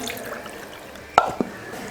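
Water is poured into a thick egg kurma gravy in a cooking pan. Two short, close splashes stand out over quiet kitchen background.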